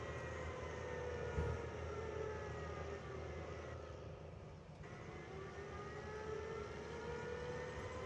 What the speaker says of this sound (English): No, that's actually an air pump's what you're hearing.